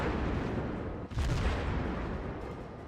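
Ship guns fire during a World of Warships battle with the cruiser Konigsberg, producing a continuous loud rumble of booming gunfire and a sharp blast near the middle, with no talking.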